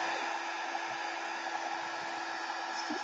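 A heat gun blows steadily while drying a watercolor painting of a large flower, a constant close whooshing hum with a faint whine, holding level throughout.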